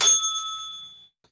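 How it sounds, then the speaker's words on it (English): A single clear bell ding from a city council meeting's speaker timer rings out once and decays smoothly over about a second in quiet surroundings. "after the first 2 minutes have passed, a single bell ding will sound"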